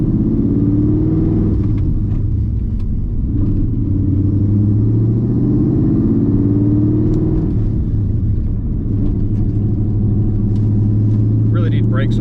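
A 2001 Mustang Cobra engine with a worn-out exhaust rumbles loudly and continuously, its revs rising and falling in a deep, throaty drone.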